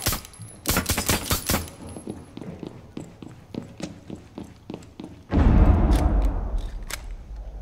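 Gunfire rings out in the Rainbow Six Siege video game, with rapid bursts of sharp shots and scattered single reports and footsteps, followed by a louder rumbling blast or collapse near the end.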